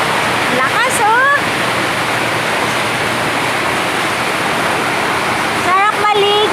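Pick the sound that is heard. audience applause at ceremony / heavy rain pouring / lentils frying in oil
heavy rain pouring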